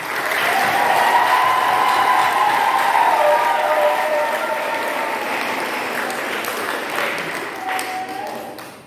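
A church congregation in Senegal's Kolda diocese applauds during a Catholic sermon, with sustained, dense clapping that swells early, then slowly tapers while a faint tone rings through it.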